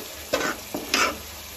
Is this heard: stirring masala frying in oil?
yes